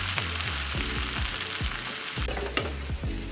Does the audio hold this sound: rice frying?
yes